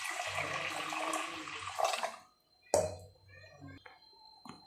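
Water poured over washed moong dal for cooking in a kitchen, a broad splashing pour for about two seconds, then a brief second splash and a few lighter drips and clinks, with little else.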